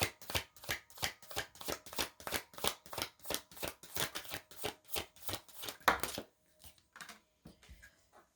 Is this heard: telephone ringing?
no